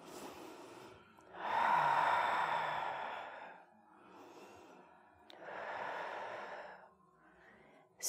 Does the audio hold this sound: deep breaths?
yes